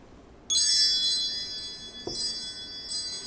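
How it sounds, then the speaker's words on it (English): Wind chimes ring out suddenly, bright metallic tones shimmering and overlapping, struck again in several soft waves that fade between strikes, alone in a quiet room. "Let's call in spirit with some wind chime time."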